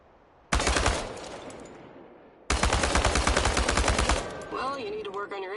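Automatic rifle fire at cans in the Chernobylite video game, two long rapid bursts of loud sharp shots separated by a pause, followed by a voice speaking as the firing ends.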